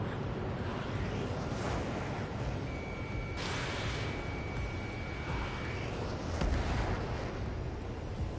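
Anti-air fire in the video game Ace Combat 7: a steady, dense rumble of distant guns and explosions rolls on throughout, with a few sharper bursts rising above it and a thin electronic tone running through the middle.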